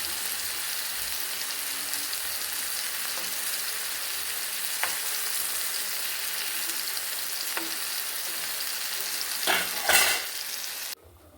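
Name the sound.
tandoori chicken pieces frying in an oiled pan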